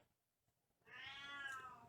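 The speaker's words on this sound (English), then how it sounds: "She's just a very vocal cat." A vocal house cat lets out a single drawn-out meow indoors, rising and falling, loud and close, after a second of near silence; no one speaks.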